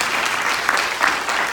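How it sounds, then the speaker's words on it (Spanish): Brief, loud congregational applause in a Spanish-speaking church in Kilgore, Texas, a dense, continuous wash of many hands clapping close by. "denle un fuerte aplauso al Señor, porque Él es digno de ser alabado."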